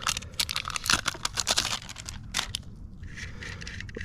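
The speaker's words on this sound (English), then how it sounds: "Go ahead and pull this sticker off." A sticker is peeled off a new front strut for a 2012 Toyota Camry, giving close crinkly paper rips and scratchy tearing bursts, denser at first, then quieter.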